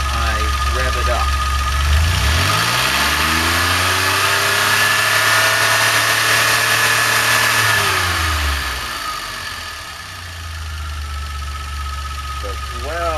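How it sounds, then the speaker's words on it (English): DeLorean engine revved from idle, climbing to a sustained higher pitch for several seconds before dropping back down to a settled idle. "Now watch what happens as I rev it up."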